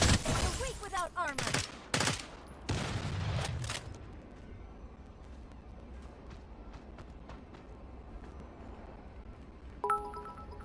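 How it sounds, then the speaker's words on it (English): An explosion in a video game cracks out in a rapid burst of loud blasts over the first few seconds, then fades into a low, quieter game ambience with occasional small clicks. "Sorry, but I heard an explosion, like, right next to me."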